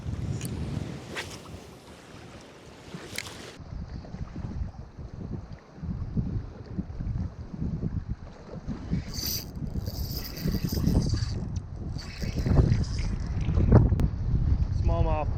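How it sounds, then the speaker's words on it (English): Strong wind buffeting a lake shore in northern Michigan in cold early spring, a constant rumbling gust noise across the whole stretch with louder bursts near the end and a voice speaking under it. "It's windy out here."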